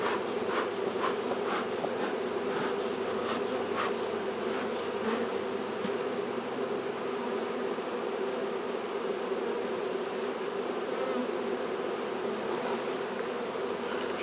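Honeybees from a nuc with an Alberta-bred queen hum around the box in a steady, dense drone close by, with a few individual bees buzzing past, and no voices.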